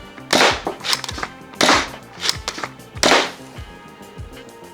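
A homemade Nerf Worker Harrier blaster fires three sharp, loud shots spaced about a second and a half apart, each followed by quick mechanical clacks of the action cycling.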